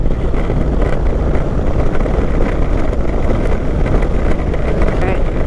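A 2021 Indian Chieftain Limited motorcycle riding in sport mode, its engine a steady low rumble mixed with heavy wind buffeting throughout, with speech-like noise over it.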